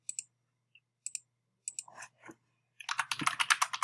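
Computer keyboard typing, close and quiet: a few isolated key clicks spread out at first, then a quick busy burst of keystrokes near the end, with no talking.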